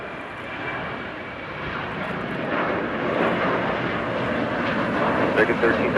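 Airliner rolling for takeoff on runway 25 right at Los Angeles International Airport, a broad steady jet roar that swells gradually and stays loud throughout, with radio voices faintly present beneath it.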